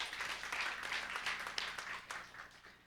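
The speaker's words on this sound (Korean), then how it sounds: "우리 박수 한번 해주세요." A church congregation applauding, a steady patter of many hands clapping for a few seconds, moderately distant and fading slightly toward the end.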